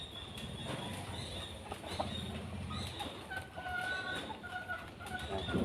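Sweater Tornado gamefowl pullets cluck softly in a pen, scattered short clucks and chirps over a low background hum, faint and fairly close, with no talking.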